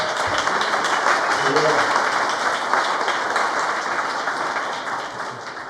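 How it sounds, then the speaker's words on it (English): A round of applause from the audience at a game-industry event: a loud, dense wash of many hands clapping, sustained and even, with a brief voice in the middle, easing slightly toward the end. "I think it would be nice to give him a special round of applause"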